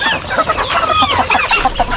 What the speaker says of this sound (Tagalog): Halo-halo yung mga manok namin.